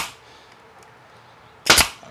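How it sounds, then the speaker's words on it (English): A single sharp pneumatic snap from a brad nailer driving a nail into a wooden model car display case, one short loud burst after a quiet stretch. "So I'm just putting these few nails in"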